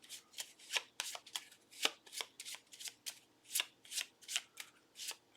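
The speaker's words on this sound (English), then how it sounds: "These need to be shuffled." A deck of game cards is shuffled during a tabletop board game campaign, a long run of crisp riffling bursts repeating in quick rhythm, close and clear with no talk over it.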